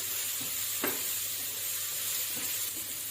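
Finely chopped capsicum sizzles on a hot tawa for a paneer burger, producing a constant close hiss broken by a single short scrape or tap, with no one speaking.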